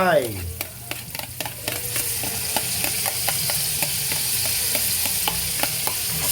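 Sliced onion and kimchi fry in a hot pan, hissing in a loud, steady sizzle broken by repeated sharp scrapes and taps as the mixture is stirred, with no talking.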